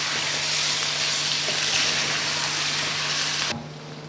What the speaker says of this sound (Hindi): यहाँ पे चिकन फ्राई हो रहा है